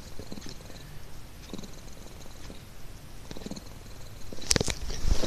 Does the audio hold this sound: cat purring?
yes